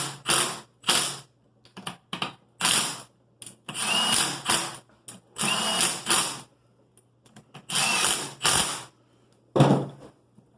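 Power tool snugging up bolts on a Drag Cartel B-series billet AWD transfer case, heard as a series of short, sharp mechanical bursts with brief pauses between them, close and fairly loud, with no talking.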